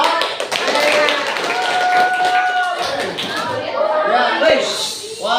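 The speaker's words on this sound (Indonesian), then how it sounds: "beri tepuk tangan buat" Classroom students give a round of applause during a group presentation, lively clapping mixed with chatter, chuckles and overlapping voices throughout.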